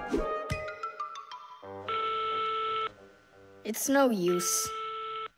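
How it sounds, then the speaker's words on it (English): In a cartoon, a telephone gives a series of electronic tones and beeps, steady tone blocks alternating with short warbling chirps, close and clear, while a voice speaks briefly partway through. "Oh, they answered the phone."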